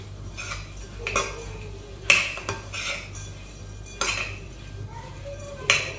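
Granola ingredients with vanilla being stirred together in a bowl to coat them: several separate clinks and scrapes of a utensil against the dish, close by, with brief gaps between strokes.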